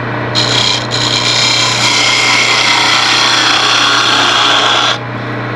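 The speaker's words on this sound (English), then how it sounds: "now I'll go back to the scraper. Let's take a bit more out" A scraper cuts into wood spinning on a lathe, a loud, harsh, continuous rasping close by that runs for about five seconds with a brief break near the start, then stops abruptly.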